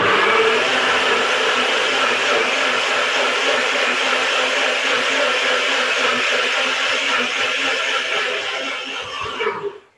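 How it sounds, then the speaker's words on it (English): A blender whirs steadily, blending cherry tomatoes with a little water, a loud continuous motor drone that holds even for several seconds and then winds down and stops at the end. "blender."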